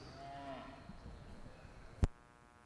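Chianina spring heifer calves in a cattle show ring give a faint, distant moo early on over low background noise, followed by a single sharp thump near the end; nobody talks.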